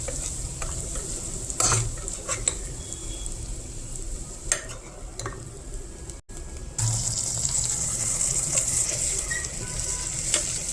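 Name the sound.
onions frying and being stirred in a pan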